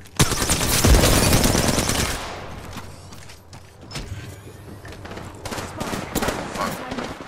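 Rapid automatic gunfire rattles loudly in an Apex Legends match, then fades to scattered shots and mechanical clicks, with a voice speaking briefly over the action.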